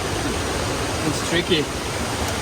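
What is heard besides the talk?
jungle waterfall rushing water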